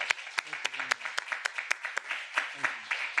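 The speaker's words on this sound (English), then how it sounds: "please join me in giving him a round of applause" A small audience at an expert lecture gives a round of applause, with distinct individual claps at moderate loudness and a thin, sparse texture across a few seconds.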